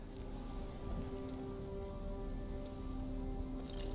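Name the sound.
rain falling in Diablo 3 video game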